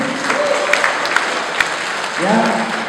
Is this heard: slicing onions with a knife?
no